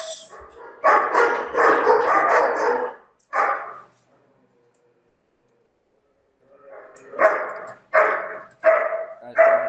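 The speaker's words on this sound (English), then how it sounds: "The dog is just making noise." A dog barking indoors in loud clustered bursts, a long run of barks then a pause and several more sharp barks close to the microphone.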